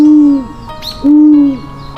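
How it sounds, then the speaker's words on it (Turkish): Two loud, clear owl hoots, each a low sustained tone, with a softer high call between them, close and isolated. "Baykuş, gece avlanır kocaman gözleri vardır."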